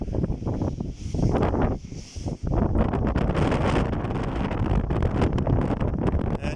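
Strong evening wind on the Costa Brava coast near El Far d'Empordà roars steadily across the microphone, a loud, continuous buffeting rush with a brief lull before surging back.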